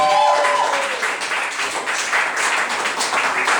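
An audience applauds at a live stage show, a dense patter of clapping with a few whoops over about three and a half seconds, fairly close and steady.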